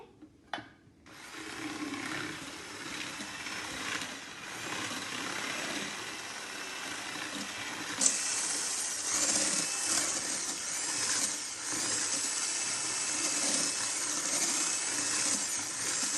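An electric mixer whips a creamy fruit salad with a steady, loud whirring drone that runs almost the whole time and grows a little harsher partway through. No one speaks.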